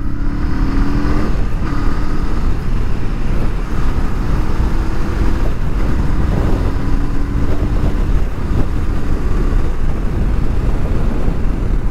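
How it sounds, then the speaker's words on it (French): A 2023 Honda CL500 Scrambler accelerates, its engine note rising through the revs beneath heavy, loud wind rush that stays constant throughout the twelve seconds. "On va se taper une petite accélération."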